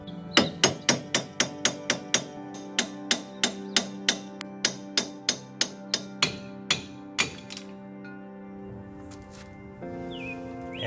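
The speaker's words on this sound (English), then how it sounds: "This is where you take your hammer and you just hammer it out." Sharp metallic hammer strikes ring out in a steady rhythm, about twenty blows close by, hammering a corroded Toyota wheel stud out, then stop, leaving a faint hum.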